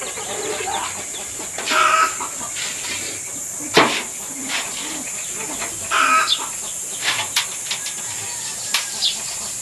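Several chickens cluck near and far in a wet rural yard, scattered short calls and soft knocks spread irregularly over a faint steady background.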